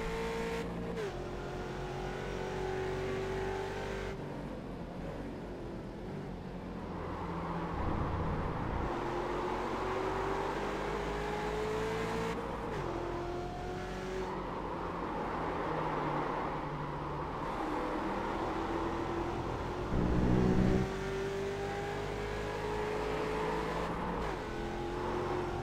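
Mini race cars on the final lap of a mixed-class race, engines droning steadily and revving with pitch rising and falling as they pass, continuous loud motor noise throughout.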